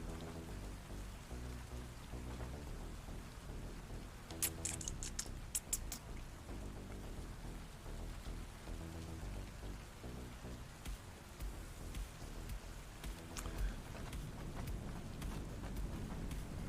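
Rain falling on wet concrete in the video game Satisfactory during a sun shower, a soft, continuous patter with occasional sharper drips over a low steady background.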